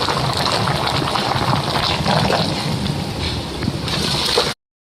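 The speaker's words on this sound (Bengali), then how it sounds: "আমি এখন এসবটা ঢেলে নেব, জল ঝরাবো" Boiled jackfruit and water are poured into a strainer, making a close, continuous splashing gush of draining water that stops abruptly after about four and a half seconds.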